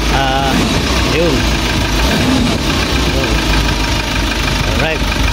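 A Hyundai H100 with a D4CB diesel engine idles after a cold start in a workshop, a loud, steady mechanical rumble with some knocking that runs without a break. Voices are heard faintly over it.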